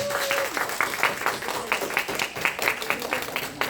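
A church congregation at a Sunday worship service claps in a steady, moderately loud rhythm, the claps fairly regular and mixed with a murmur of voices.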